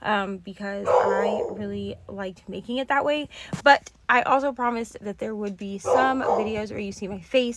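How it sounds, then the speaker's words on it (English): Dogs bark and yip intermittently in a home, partly under someone talking steadily close by. "Sorry for the dogs"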